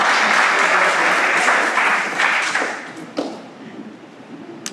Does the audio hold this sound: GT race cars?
no